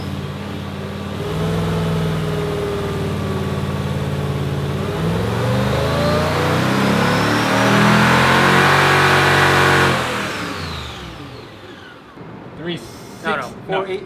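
A Mercedes SL55 AMG engine revs up steadily under load on a dyno, pitch climbing to a loud roar before dropping off, with people talking briefly as it winds down.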